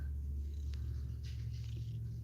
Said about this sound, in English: One of the cutest little kitties we've ever seen.